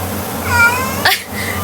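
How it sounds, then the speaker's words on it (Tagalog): A cat lets out a drawn-out, wavering meow close by, followed by a shorter, fainter second call over low background hum, with no talking. "Nagreklamo yung pusa."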